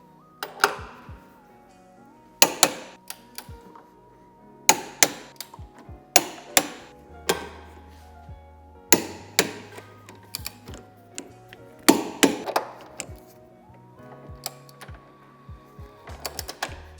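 Tow hitch bolts on a Mercedes-Benz Vito W447 are tightened with sharp metallic clicks and clacks from a ratcheting tool, coming in irregular bursts close by, with no talking.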